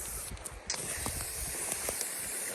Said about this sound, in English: I'm going to spray paint all the previous beaver damage like so